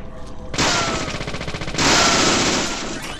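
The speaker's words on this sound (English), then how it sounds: "let me just shoot the gun!" Rapid gunfire in the video game Deadly Premonition, two loud sustained bursts of close automatic shots, the second louder, with no talking over them.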